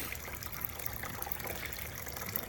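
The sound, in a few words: front yard water fountain splashing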